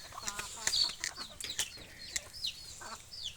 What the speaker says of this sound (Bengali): আশপাশে মুরগি থাকলে সব দৌড়ে চলে আসবে।